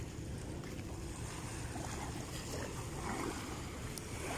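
Sea waves wash steadily onto a beach after a night of high tide, a continuous broadband surf roar with wind noise and no voices.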